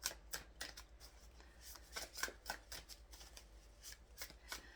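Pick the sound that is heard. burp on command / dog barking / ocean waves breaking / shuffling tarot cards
shuffling tarot cards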